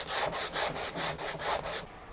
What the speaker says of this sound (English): Let's get some sanding blocks and clean up the sides of this neck.